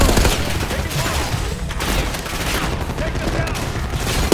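Machine gun fire in the Call of Duty Black Ops 6 campaign: dense, continuous bursts of gunfire crackle close and loud throughout, while a soldier briefly calls out an order over the shooting.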